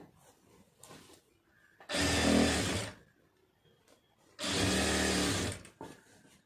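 A sewing machine runs two separate bursts of stitching along a lining blouse, each lasting a second or so with a quiet pause between, near and moderately loud.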